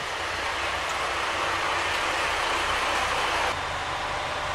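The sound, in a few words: Kyoto Tango Railway rapid train running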